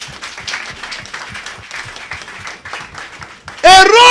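A church congregation bursts into loud applause and cheering at the very end, following rhythmic clapping and voices building underneath a preacher's amplified speech.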